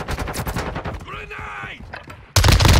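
Bursts of gunfire in the Modern Warfare 2 shooter game, loud close shots in the opening second, a quieter spell with game voice chatter, then a sudden heavy blast of fire at the end.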